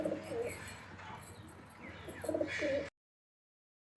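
Domestic pigeons in a home loft give off soft low coos in short bursts, close by, over light background rustle, ending abruptly into silence.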